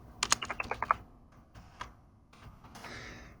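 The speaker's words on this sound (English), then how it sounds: "we'll type in that in the search" A quick burst of keystrokes on a computer keyboard types a search, about eight close, crisp clicks in rapid succession, followed by a couple of softer taps and a light rustle in a quiet room.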